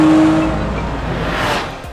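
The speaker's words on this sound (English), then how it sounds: "This is the 90-degree V6 heart of the car." A Honda NSX-R's 90-degree C32B V6 engine idles with a low, steady rumble and a faint whine that fades slightly over two seconds.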